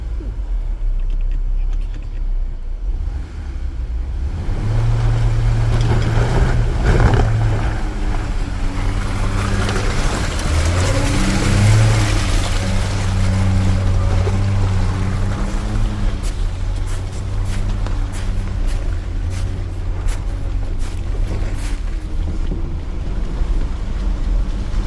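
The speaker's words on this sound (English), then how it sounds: "that Gladiator sounded like it had to rev pretty hard to get up over that obstacle" A Jeep Gladiator's engine labors and revs hard while crawling over an off-road obstacle, a low droning note under heavy wind buffeting on the microphone that swells in the middle and then eases off.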